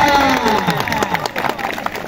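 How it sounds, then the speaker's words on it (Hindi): Brief crowd applause and cheering at a lively gathering, short and loud, mixed with excited voices over a continuous crowd roar. "तालियां"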